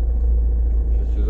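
A car pulls forward through Paris city traffic in the 13th arrondissement, its low engine rumble steady and close under a continuous background of road noise.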